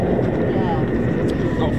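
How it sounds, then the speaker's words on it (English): F-16 fighter jet engines spool with a steady, broad, rushing roar that stays constant throughout, heard at a distance with voices talking over it. "That's your F-16s just spooling."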